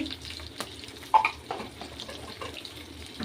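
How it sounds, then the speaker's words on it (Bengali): Pointed gourd (potol) pieces frying in a pan, a steady close sizzle with scattered crackles and a sharper clatter of stirring near the middle, no voices. "এবার পটলটা ভাজবো, পটলগুলো ভেজে নেব।"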